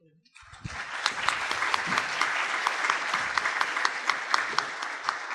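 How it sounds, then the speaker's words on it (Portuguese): A lecture audience at a talk on Pope Francis's encyclical Laudato Si' claps after the speaker finishes, the crisp individual claps starting suddenly and continuing in a fairly sparse, steady patter for about five seconds. "nossas palmas expressam agradecimento"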